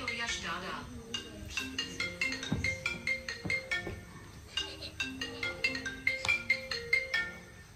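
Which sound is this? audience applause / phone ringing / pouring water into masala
phone ringing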